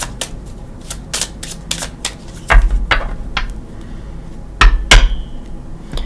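Tarot cards are shuffled by hand up close, a string of crisp snaps and flicks with a couple of louder riffles, no talking.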